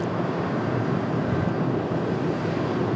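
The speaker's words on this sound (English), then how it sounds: "Southwest is in fact turned and is burning. Making their way down the runway now." A Southwest Boeing 737-700 jet rolls down the runway on its takeoff run, giving a steady, broadband engine roar with a faint high whine that stays loud and constant throughout.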